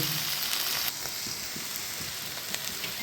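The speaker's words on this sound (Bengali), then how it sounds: "এটা আর একটু কষাবো" Spice paste for pomfret fish, with a little sugar added, sautés in a pan with a continuous soft sizzle and crackle. It is moderately quiet and steady, with occasional faint stirring taps.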